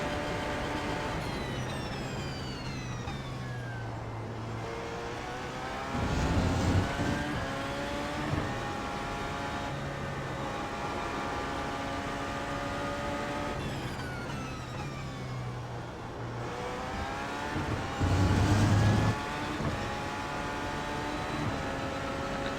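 A Porsche 919 race car in the iRacing sim accelerates up through the gears on track, each run rising in pitch before brief downshift breaks, the engine loud and steady with two repeated acceleration cycles.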